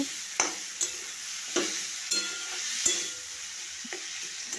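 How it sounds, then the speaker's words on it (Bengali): Tomatoes sauté in a pan for a village-style tomato chutney. A steady background sizzle runs under repeated scraping strokes of a stirring utensil, spaced roughly every half second to second, close by and without speech. "যতক্ষণ না টমেটোটা নরম হচ্ছে ততক্ষণ এভাবে আমি কষিয়ে যাব"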